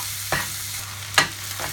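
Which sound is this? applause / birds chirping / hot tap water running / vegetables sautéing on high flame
vegetables sautéing on high flame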